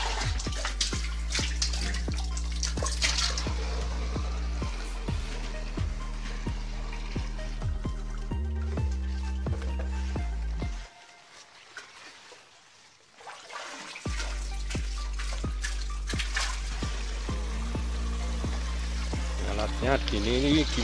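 Water drawn from a well pours steadily into a paint bucket at a corn field during morning watering, a loud continuous splashing stream that briefly drops out midway before resuming.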